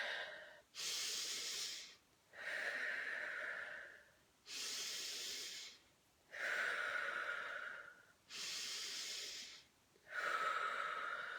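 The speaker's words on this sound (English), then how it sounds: "So, nice deep belly breaths." Slow, deep belly breathing in a guided breathing exercise: three long, steady inhales and exhales alternate with short pauses, each breath close and clearly audible, with airy hissing on the inhales.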